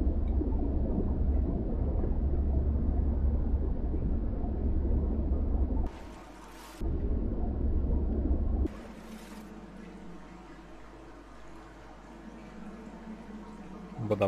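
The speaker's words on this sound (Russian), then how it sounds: "Водопад." A waterfall in the video game Dear Esther roars as a loud, steady low rush, broken by two abrupt cuts, then drops to a quieter, more distant rumble.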